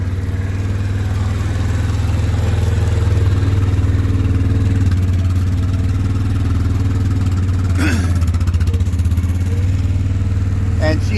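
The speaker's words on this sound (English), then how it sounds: "Bike's warming up so we can turn down the choke and let it idle normal." A Yamaha Kodiak 400 ATV engine idles steadily during a cold-morning warm-up in Kentucky, a continuous low throbbing hum with a brief clatter near the end, under intermittent talk.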